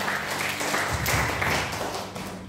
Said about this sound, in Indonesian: you can clap for Jesus. Go ahead and clap.